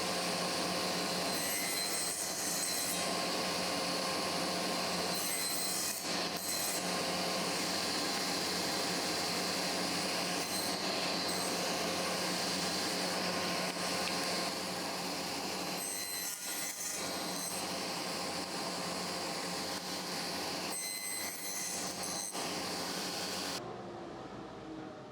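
A table saw cuts wood for a locked dado joint, its steady blade whine running loud and unbroken for over twenty seconds with faint dips between passes, then stopping at the end.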